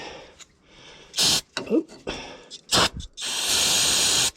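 Aerosol cleaning fluid sprays near a glow plug on a D9G bulldozer in several sharp hissing bursts, ending in one longer steady spray, with some breathing and brief talk between.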